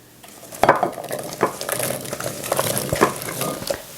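Yukon Gold potatoes being stirred around in a marinade, with scraping and clinking of a utensil against the bowl coming in uneven bursts, moderately loud and close, with no talking.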